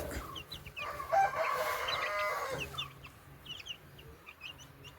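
Black-and-white spotted chickens and chicks cluck and cheep around a farmyard, a busy flurry of calls in the first half fading to scattered peeps, with no talking.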